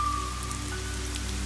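Steady rain falls around a house, a constant soft hiss of drops on surfaces with a low sustained hum running underneath.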